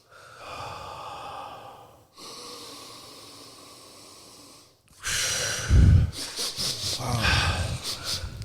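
Guided breath work with slow, steady breathing in through the nose and out through the mouth, heard as several long airy breaths up close, followed by louder, rougher exhales and snort-like rushes of air.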